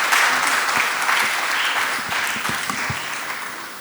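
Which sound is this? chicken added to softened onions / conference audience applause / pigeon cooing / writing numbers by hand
conference audience applause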